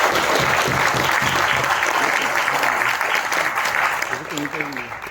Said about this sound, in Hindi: सर के लिए एक बार जोरदार ताली होनी चाहिए